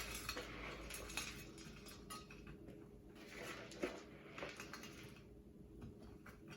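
Casserole stuffing scooped with a metal spoon into a dish, producing soft scraping, muffled thuds and light clinks of cutlery against the dish, close and quiet with no speech.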